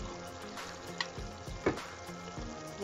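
Soft, steady sizzling and bubbling from cabbage stewing in its own juice in a pan, with a few clinks of a utensil stirring, quiet and close.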